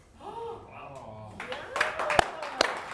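A studio audience on a daytime talk show claps, the applause rising late in a short burst of sharp hand claps after a stretch of talk and crowd murmur.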